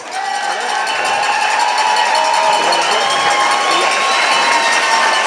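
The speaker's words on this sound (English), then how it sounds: "let's give one more big round of applause for Deb and Forrest" A ballroom audience at a dance showcase cheers and applauds for a dancing couple, a loud, continuous wash of crowd noise with shouting voices.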